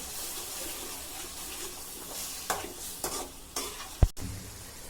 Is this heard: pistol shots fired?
no